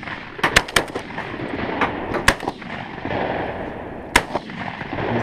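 Shotguns fire at geese from a pit blind during a goose hunt: several sharp, loud blasts in quick irregular bursts, then a single later shot, with no talk.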